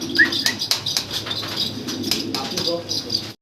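Pigeons at a loft coo and flap their wings close by, with soft fluttering and cooing repeated over a busy background while someone talks.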